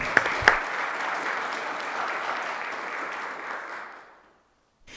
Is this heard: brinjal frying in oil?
no